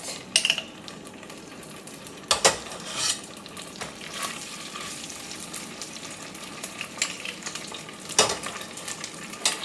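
Steady sizzle of beans refrying in a pan, a crackling hiss throughout, broken by a few louder clinks and scrapes of a spoon stirring.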